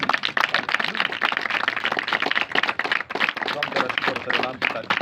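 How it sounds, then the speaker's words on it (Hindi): Church program audience clapping loudly in a burst of applause, dense irregular claps with voices and cheering mixed in. "यीशु अल मसीहा के नाम में एक बार जोरदार तालियां।"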